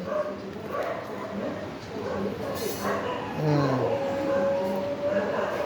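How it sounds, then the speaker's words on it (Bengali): Dogs barking and yelping in a scuffle, with sharp bursts and whining cries over a steady background, the noise rising in the final seconds. "কুকুরে মারামারি লেগেছে"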